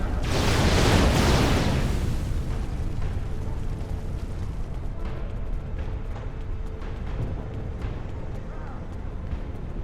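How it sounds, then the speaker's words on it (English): A loud explosion of detonated charges booms in the Star Trek Online game, a heavy roaring blast that peaks in the first two seconds and then fades into a long rumbling decay. "Now, get to a safe distance and detonate them."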